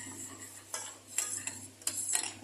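Dates and walnuts caramelizing in a pan are stirred with a metal utensil, giving a few distinct scraping clinks against the pan over a low steady hum, close and fairly quiet, with no talking.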